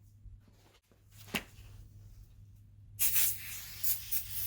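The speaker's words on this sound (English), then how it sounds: "spray it on and clean your window off" Glass cleaner hisses from a trigger bottle onto a car window in a few quick close bursts, with a short faint spritz first and then a louder sustained spray near the end, and no talk.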